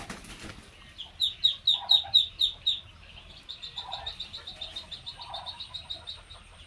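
A newly hatched chick chirps in quick runs of high, thin peeps, close but faint, with soft rustling and low muffled sounds between the bursts and no talking.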